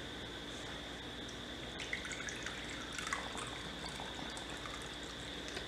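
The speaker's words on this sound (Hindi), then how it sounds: "इसमें डालेंगे पानी।" Water poured into a pot of rice and washed moong dal for baby khichdi: a soft, close trickle and dripping over faint steady background hum, with no speech.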